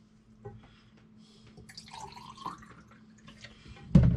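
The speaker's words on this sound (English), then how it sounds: "I'll just put a little bit of water into the graduate, large graduate" Water is poured into a large graduate while preparing Pyro 510 developer for semi-stand film developing: a soft, close trickle that builds midway, then a sharp knock of the vessel at the end.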